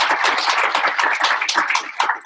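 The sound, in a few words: round of applause for Carlo Lori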